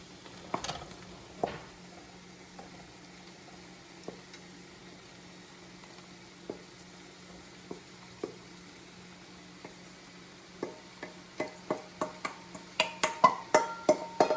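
Boiled rice, about two cups, stirred and tossed in a hot pan for simple fried rice, giving scattered scraping clicks and faint sizzle that grow quicker and louder toward the end.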